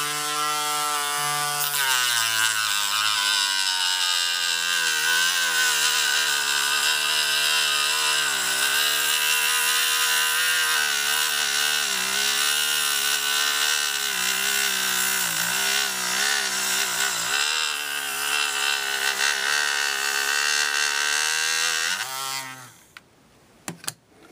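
Continuous rough grinding drone of a power sander abrading a plastic part from a 1/100 scale model kit, steady and loud for most of the span before cutting off near the end.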